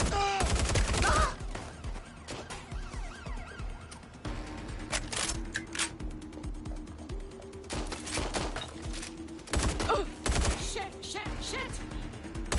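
Gunfire in the video game Watch Dogs: Legion, dense, loud bursts of shots mixed with sirens and game effects, steady and continuous throughout.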